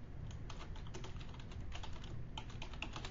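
Quick, light key clicks on a computer keyboard while a file name is typed, a steady run of soft taps with brief pauses, faint and close.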